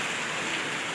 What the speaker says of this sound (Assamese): বিৰাট খাতৰা বৰষুণ